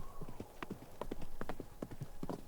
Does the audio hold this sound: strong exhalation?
no